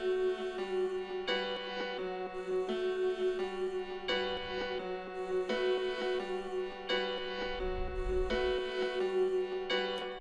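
A hip hop beat plays with strings and vocals drenched in reverb and delay. Its repeating melodic phrases are fairly quiet, with occasional low booms underneath.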